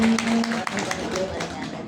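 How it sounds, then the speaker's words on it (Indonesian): A mosque gathering audience clapping for someone speaker, a brief patter of many hands at moderate loudness with voices mixed in beneath it. "tepuk tangan dulu dong buat Bu Rini"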